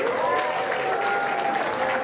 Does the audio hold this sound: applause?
yes